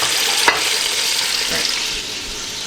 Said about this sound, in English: You hear that sizzling? It's time to check the sear.